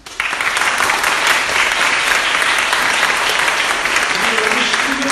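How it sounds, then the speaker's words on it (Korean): A church congregation at an anniversary thanksgiving service bursts into loud, sustained applause, a dense wall of clapping that starts abruptly and holds steady to the end. "하나님께 진심으로 감사의 박수를 드렸으면 좋겠습니다."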